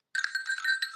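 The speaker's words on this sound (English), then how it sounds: "Ring the bells." Small bells ring in a short celebratory jingle after a winner is announced, a bright rapid cluster of overlapping chimes starting abruptly and continuing for under a second, alone without talk.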